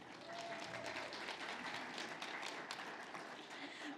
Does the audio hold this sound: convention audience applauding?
yes